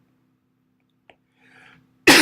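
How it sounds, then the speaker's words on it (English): A single sharp cough bursts out close and loud at the end, after near silence with a small click and a brief soft breath. "excuse my cough"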